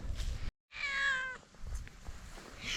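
A single clear cat meow in a village, close and fairly loud, following a brief silence, with soft background noise around it.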